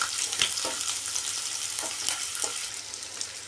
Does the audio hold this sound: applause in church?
no